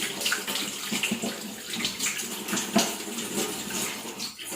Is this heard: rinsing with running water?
yes